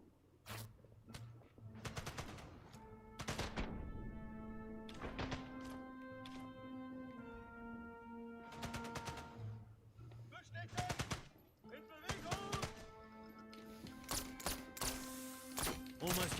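Gunfire in Sniper Elite: Resistance: scattered sharp shots and short bursts land over about sixteen seconds, mixed with tonal in-game sounds and background music, and they get denser and louder toward the end.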